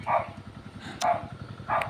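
Three short, fairly loud dog barks come at roughly even intervals, each a sharp burst, with a low rumbling background between them.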